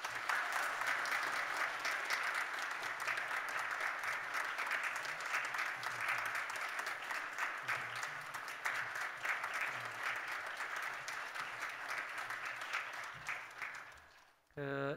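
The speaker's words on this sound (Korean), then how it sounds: "우리 격려의 박수 한번 부탁합니다." A church congregation at a Sunday worship service applauds, a sustained wash of clapping from many hands filling the room at even strength before tapering off at the end.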